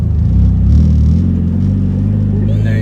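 A manual car pulls away as the clutch is released, a low steady engine rumble close by that holds on throughout with a faint clatter near the end.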